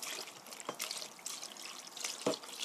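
Cooled pickle brine poured over sliced cucumber and daikon in a container, a soft continuous trickle and splash with a few brief drips, close and fairly quiet.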